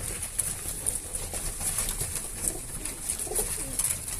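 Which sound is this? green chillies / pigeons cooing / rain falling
pigeons cooing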